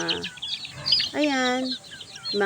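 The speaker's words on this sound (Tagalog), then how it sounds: "tilaok ng manok" A native chicken on a farm clucks and crows nearby in a few loud, harmonic calls with short pauses between them.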